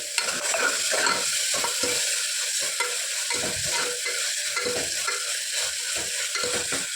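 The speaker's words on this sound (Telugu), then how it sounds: "మెంతం కూర వేసుకొని పచ్చి వాసన పోయేంత వరకు బాగా వీటిని ఆయిల్లో ఫ్రై చేసేసుకోవాలండి" Fenugreek leaves frying in oil in a pan, a steady continuous sizzle with frequent stirring scrapes throughout, close and fairly loud, no talking.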